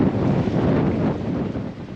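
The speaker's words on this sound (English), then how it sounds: "at 2 a.m., we start getting gusts of 35 knots" Strong wind gusts buffet a sailboat at anchor at night, blowing at 25 knots and gusting to 35, as a loud, continuous roar with heavy microphone buffeting that eases slightly toward the end.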